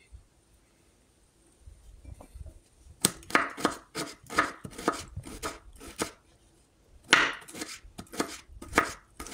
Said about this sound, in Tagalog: Hiwain natin siyang manipis.